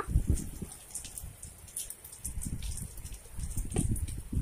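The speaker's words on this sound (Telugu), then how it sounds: "అంతగా వాన పడుతుంది ఇక్కడ" Heavy, sudden summer rain pours steadily onto surfaces nearby, a dense continuous hiss with irregular heavier patters of drops, and no voices.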